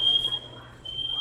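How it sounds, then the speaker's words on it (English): An alarm sounding in a bowling alley, a thin high continuous electronic tone that briefly drops out and returns, fairly faint behind quiet room noise. "we got some alarm going on here."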